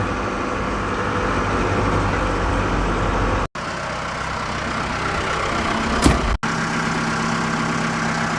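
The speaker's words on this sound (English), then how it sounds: "by loader tractor, I meant the backhoe, just because it was easier to get to." Backhoe loader tractor engine running steadily at a low, rumbling idle, loud and close, with two brief dropouts and a short higher squeak partway through.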